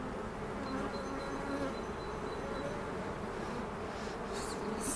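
Bees in a spring apiary hum in a dense, steady buzz that fills the air evenly throughout, with no voices over it.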